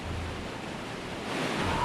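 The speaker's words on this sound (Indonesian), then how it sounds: "Arus air yang deras turut membawa batu, pasir, material kayu, dan pipa air panas." Turbid flash-flood water rushes down a river from the slopes of Mount Slamet in Tegal, Central Java, after intense rain, carrying rocks, sand, wood and pipes; a steady, broad roar swells slightly louder toward the end.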